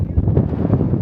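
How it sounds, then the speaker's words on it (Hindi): Cold wind blows across a mountain peak in Uttarakhand, a steady, loud rumbling buffet against the microphone that continues without a break. "हवा चल रही है, बहुत ठंडी, बहुत प्यारी।"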